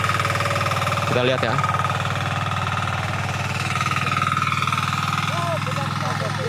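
Diesel engine of an FTL720D hand tractor tiller running steadily at close range, a constant low throbbing hum throughout, with someone speaking briefly over it.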